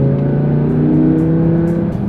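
A naturally aspirated Audi R8 RWS engine drones at steady high revs, close and loud, with strong layered harmonics and no voices over it.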